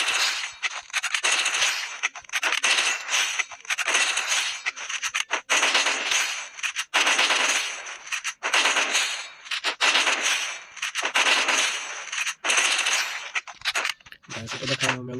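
Gunfire in a mobile shooter game, loud repeated bursts of rapid crackling shots broken by short gaps, with voice chat running over the shooting.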